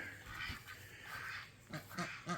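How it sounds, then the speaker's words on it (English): Runner ducks quack faintly on a homestead, a few soft, scattered calls in quick succession at a distance. "The plan is to move the runner ducks"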